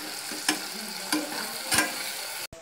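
Crushed green chilli, ginger, garlic and curry leaves crackle and sizzle steadily in a hot oiled pan, with a few sharp spoon clinks and stirring scrapes over the frying.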